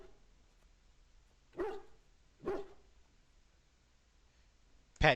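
Two distinct dog barks from the companion war hound in the video game Dragon Age: Origins, spaced about a second apart, followed by a third sharp bark at the very end, over a quiet game ambience with no talking.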